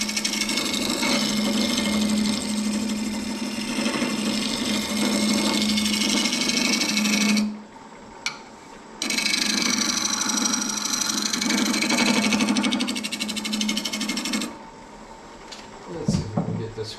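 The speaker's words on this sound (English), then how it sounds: "So you can hear that knot turning through there." A lathe tool scrapes through a knot in a myrtle wood candle bowl, giving a loud, continuous rasping whine that breaks off briefly, resumes, then stops near the end.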